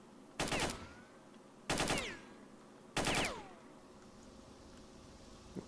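Three separate bursts of automatic gunfire in the video game S.T.A.L.K.E.R., each a rapid rattle lasting about half a second, spaced roughly a second apart over low ambient game noise.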